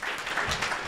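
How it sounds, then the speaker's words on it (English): Brief burst of audience applause for panelists at a multi-stakeholder conference in Nairobi, a short, moderately loud wash of clapping hands with no voices. "At least you clap for the panelists for the good work."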